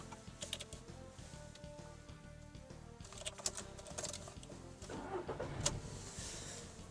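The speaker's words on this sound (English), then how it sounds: "So the engine has started." A Volkswagen engine cranks and starts after an ABS sensor change, settling into a steady idle with busy mechanical clatter and a few sharp clicks close by.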